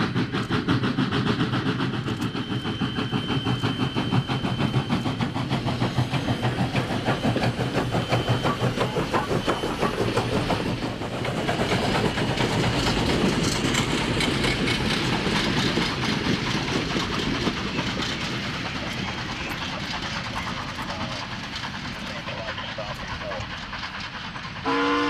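A vintage steam train runs on a small heritage railroad, its broadband rumble and rhythmic clatter steady and loud throughout, with a whistle sounding over the chugging.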